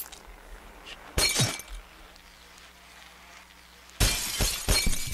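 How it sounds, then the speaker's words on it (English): A glass bottle shatters in the Happy Wheels video game, with two separate bursts of breaking glass against a quiet background, the second longer and louder than the first. "Break the bottle."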